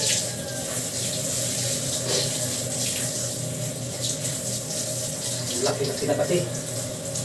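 Tap water runs steadily into a sink or tub while a dog is bathed, a constant splashing wash with people talking over it.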